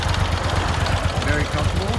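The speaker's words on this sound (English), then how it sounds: "Very nice torque out of the V-twin engine." 2004 Moto Guzzi V11 Sport V-twin engine idling with a low, lumpy, rhythmic pulse, close and steady, with someone talking over it.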